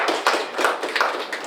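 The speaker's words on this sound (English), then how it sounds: "Give me a big round of applause for Suhas standing up." A small audience claps for a guest standing up at a Virginia Attorney General campaign event, a short burst of a few hands close by in an uneven rhythm.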